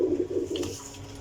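Pigeons of breeds such as Teddy, Sialkoti and Ferozpuri, kept in a loft, coo in a brief low throaty burst nearby, with a faint chirp over the top.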